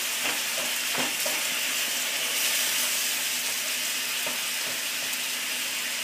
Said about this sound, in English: Give it a good stir because I like my food well cooked.